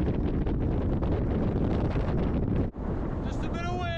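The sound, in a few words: wind blowing on a mountain hike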